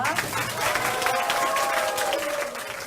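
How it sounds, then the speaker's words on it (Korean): A crowd of students and teachers claps steadily for a few seconds at a camp opening, a dense patter of hands with some voices mixed in beneath it. "한번 박수로 시작할게요"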